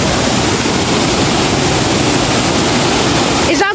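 Steady, loud rush of river water flowing close by, a dense continuous roar without breaks, cut off by a brief handling noise at the very end.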